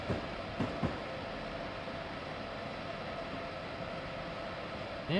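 An ACS-64 electric locomotive runs in the video game Train Simulator 2016, giving a steady broadband rumble and hiss throughout, with a couple of brief knocks near the start.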